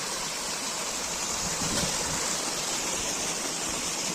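A stream in Purulia's Dauri Nala gorge rushes steadily over rocks, a broadband, continuous wash of flowing water that stays loud and even throughout with no voices.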